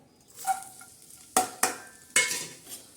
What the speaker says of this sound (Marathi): तेलामध्ये प्रथम आपण टाकणार आहोत जिरे आणि लसण.